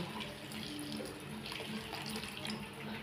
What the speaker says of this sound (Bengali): আমি আন্দাজ মতন একটু জল দেব, দিয়ে একটু ফুটিয়ে নেব